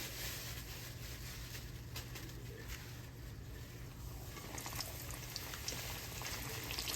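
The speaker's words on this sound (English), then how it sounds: "Then they start frying off." A steady, quiet sizzle and crackle of chicken backs frying in hot oil continues throughout, with no talking.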